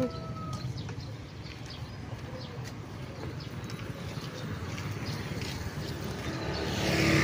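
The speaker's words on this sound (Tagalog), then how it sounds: "Tabi-tabi kayo may sasakyan." A vehicle passes along a town street in Burgos, Southern Leyte, its engine rising and growing louder toward the end over steady outdoor background noise, with faint voices and bird sounds.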